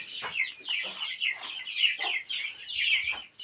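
A turkey clucks and chirps repeatedly at close range as it is let out to eat and drink, in a series of short, bright calls with brief pauses between them.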